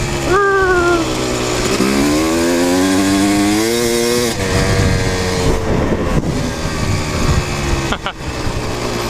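Kawasaki KX 250 dirt bike engine revving loud and close on soft dirt, pitch climbing through gears with a buzzy two-stroke whine, then choppy throttle blips and brief drops.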